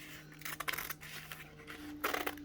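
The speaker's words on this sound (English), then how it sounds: "I'm going to take my pair of scissors here, cut this open." Scissors snip open the package holding a BMX Action magazine, giving several short crisp cutting bursts with quiet pauses between them, close and fairly soft, with no talking.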